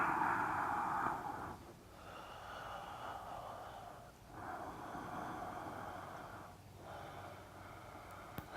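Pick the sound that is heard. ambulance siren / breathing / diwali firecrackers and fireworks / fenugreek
breathing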